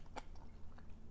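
Close crunchy bites and chewing of spicy enoki mushrooms, a few short crisp bursts over about a second with quiet mouth sounds between them, no talking.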